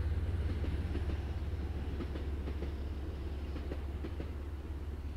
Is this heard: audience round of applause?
no